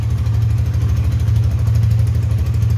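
A Honda Tiger motorcycle engine idles after a choke start, a loud, close, steady low thumping rumble with an even pulse.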